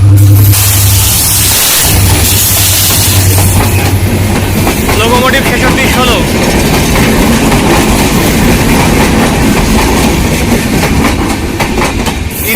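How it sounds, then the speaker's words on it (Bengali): The Ekota Express passenger train passes at close range, loud and continuous, with a rumbling locomotive at first and then a long run of clattering wagon wheels and occasional squeals over the rail joints. "প্রথম ট্রেন একত এক্সপ্রেস যাচ্ছে"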